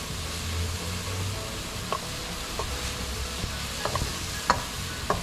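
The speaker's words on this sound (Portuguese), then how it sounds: "Agora nós vamos deixar a cebola e o alho dar uma fritadinha até que ele fique um pouco transparente" Onion and garlic frying in a pan for meatballs, a steady soft sizzle with a few faint scrapes and clicks of stirring, no voices.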